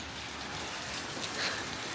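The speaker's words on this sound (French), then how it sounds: "la villa elle est ouverte et il pleut mais genre vraiment des cordes" Heavy rain pours outside an open villa in Bali, a dense, even hiss of falling water that stays steady and fairly faint throughout, with no talking.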